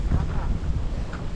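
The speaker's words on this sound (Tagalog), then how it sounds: "malakas yung hangin." Strong wind buffets the microphone on a hilltop on an island, a low continuous rumble filling the short moment with no clear talk.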